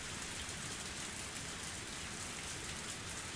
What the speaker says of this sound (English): The sound of falling raindrops was fierce